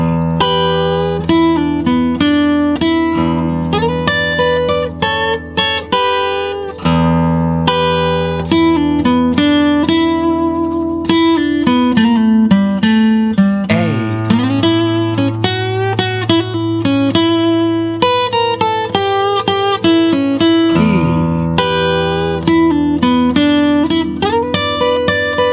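Electric guitar working through a slow 12-bar blues in E, with dense sustained chords and bending lead lines layered over a steady low pulse, continuous and loud with no voices.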